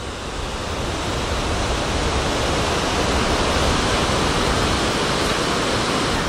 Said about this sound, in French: il y a du vent, je ne sais pas si on entendra bien